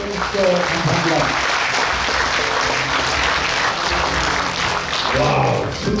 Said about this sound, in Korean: 함께 박수 보내주십시오